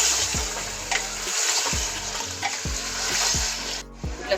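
Beef tripe fries in ginger garlic paste with a close, hissing sizzle, punctuated by regular scraping strokes of a spoon stirring through the pan.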